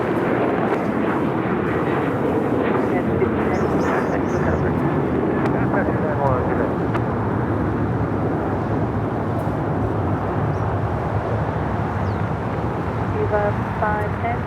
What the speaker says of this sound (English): That takeoff is United Airlines 1591, taking off to Houston Intercontinental